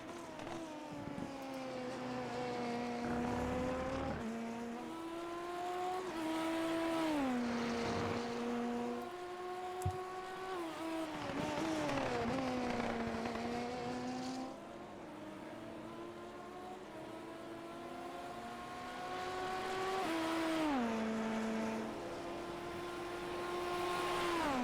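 Open-wheel race cars in the Hyper Formula race at Elkhart Lake roll down pit lane for mandatory four-tire stops. Engines hum steadily and rise and fall in pitch as cars pass and shift, continuous and moderately distant.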